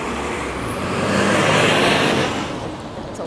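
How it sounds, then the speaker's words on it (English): A loud truck rumbles past on King Street East in downtown Toronto, its roar swelling to a peak mid-way and then fading, close and dominant over the windy street noise, with no talk. "It's a loud truck."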